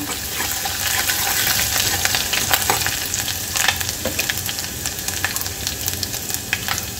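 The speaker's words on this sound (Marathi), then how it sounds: "आणि आता याच्यामध्ये अद्रक लसूणची पेस्ट टाकायची आहे" Ginger-garlic paste frying in hot oil inside a pressure cooker, a continuous loud sizzle with crackling spits and occasional stirring scrapes, close up and steady throughout.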